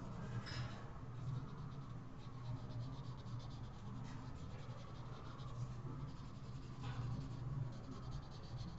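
Soft, steady graphite-pencil smudging and rubbing on paper while refining skin shading in a drawing, a quiet continuous scratchy texture with a few slightly sharper strokes.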